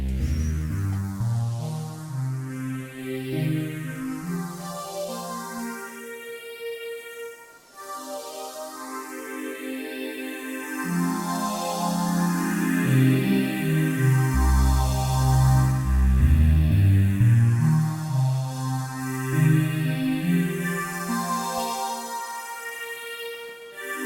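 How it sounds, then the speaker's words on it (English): A slow-attack synth played through a Zoom MS-70CDR effects pedal, starting dry and then gaining effects: swelling chords and a moving bass line under a shimmering, sweeping modulation, steady and fairly loud throughout with no talking. "now let's listen to the slower attack synth"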